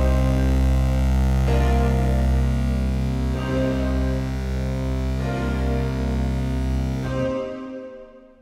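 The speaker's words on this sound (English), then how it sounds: "So the volume that you're hearing is our reverbs" Reverb tails from effect sends ring on in a Studio One mix after the track volume is pulled down: sustained tonal hum-like chords with soft rhythmic swells, fading out to silence at the end.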